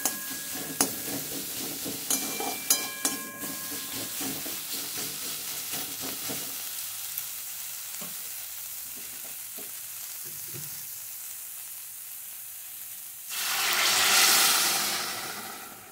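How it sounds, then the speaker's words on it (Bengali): Moong dal fries with cumin powder in a pan: sharp spoon clinks and scraping from stirring come first, then a soft continuous sizzle, and a louder hissing burst near the end. "এখন আমি এর মধ্যে 1 চামচের মতন জিরে গুঁড়ো দিয়ে নিচ্ছি"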